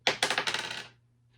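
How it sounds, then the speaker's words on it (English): Dice rolled across a hard surface: a sharp first impact followed by a rapid rattling series of bounces that fades out within about a second, close and clear. "sorry to say, Boba Fett, you have been eliminated by the dice"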